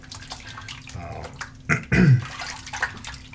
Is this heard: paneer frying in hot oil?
no